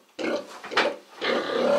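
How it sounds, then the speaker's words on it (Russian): A Landrace-Large White F1 sow grunts in a series of three loud, nasal grunts close by, the last one drawn out, with no talking over them. "Это свиноматка, с которой никогда нету проблем."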